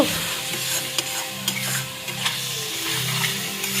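Mutton marinated with spices and yogurt fries in oil for kosha mangsho, a steady close sizzle broken by a few sharp stirring scrapes in the pan, with no voices.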